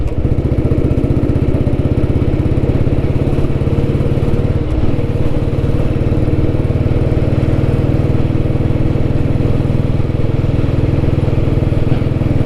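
A vintage Royal Enfield Bullet motorcycle engine runs steadily at a loud, close idle, its fast even thumping continuous throughout with no talking.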